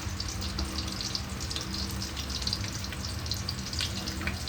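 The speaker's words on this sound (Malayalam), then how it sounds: "കുറച്ച് എണ്ണ വീത്തിയിട്ട് ഒരു സവാള നീളത്തിന് അരിഞ്ഞ് ചേർക്കുന്നുണ്ട്." Sliced onion frying in oil with mushrooms gives a steady, close sizzle with a soft watery hiss, continuous with small crackling flecks throughout.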